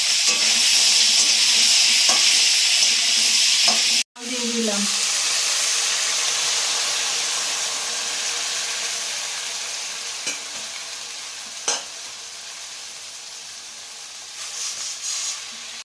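Ash gourd and diced potatoes fry and are stirred in a pan for a fish-head ghonto, with a steady loud sizzle and hiss throughout, briefly interrupted by a sharp break, then settling back with occasional scraping clinks.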